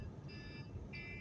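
An electronic alarm beeps faintly in two short bursts of steady high tones over a low background hum, with no talking.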